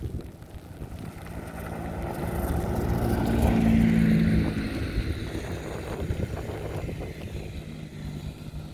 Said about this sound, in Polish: jest ostra śnieżyca i wiatr